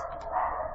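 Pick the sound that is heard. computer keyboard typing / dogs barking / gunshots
dogs barking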